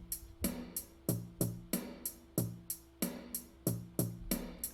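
A snare drum with reverb applied in Ableton hits in a steady pattern of about a dozen sharp, bright strokes, each trailing a short wash of ambient tail; fairly loud with no talking.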